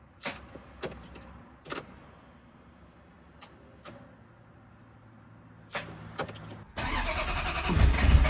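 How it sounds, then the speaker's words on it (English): A Ferrari F355 is cranked with a few short, separate starter bursts spaced over several seconds, then the engine catches and roars loudly into a rough, rumbling idle near the end. "I went to go fire the car up to warm it up"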